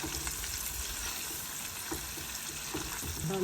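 Beef ribeye sizzles with garlic in a hot pan, a continuous crackling hiss close up with a few faint clinks of a utensil as the meat is turned.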